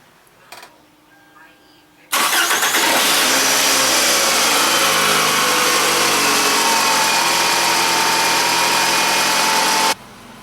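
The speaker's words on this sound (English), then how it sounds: "We will start the engine, let it run for about 5 minutes, and we'll check the level." A car engine starts and runs at a steady high-pitched idle during a check of overfilled automatic transmission fluid. It comes in loud and close after some quiet handling sounds and holds unchanged for about eight seconds before cutting back.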